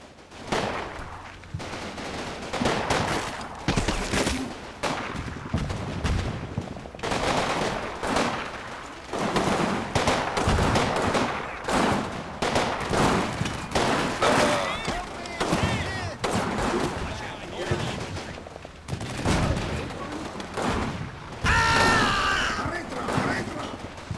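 Gunfire from an Italian infantry counterattack out of woods against American GIs in the Combat Mission Normandy wargame: dense, continuous rifle and machine-gun fire with sharp cracks and bursts throughout, loud and sustained.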